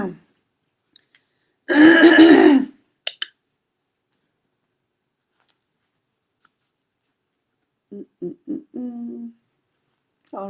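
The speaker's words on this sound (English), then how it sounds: "now I'm coughing a whole bunch" Harsh, loud cough burst lasting about a second near the start, followed by a few short throat-clearing or coughing sounds later on, with quiet stretches in between.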